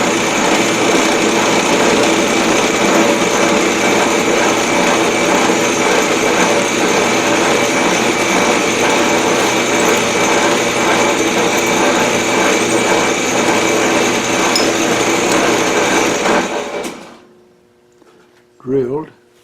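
A number 7 drill bores a hole in metal for a camera mount, a steady high whine from the drill motor that runs continuously, then stops, followed by a brief voice.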